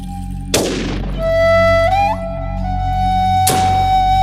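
Two sharp gunshots from a hunter's gun ring out about three seconds apart, each a loud crack followed by a fading echo, with a steady tone underneath.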